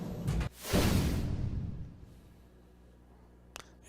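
An elevator door in the game Her World slides shut with a single whooshing rush that fades away, followed by near quiet and a faint tap at the end.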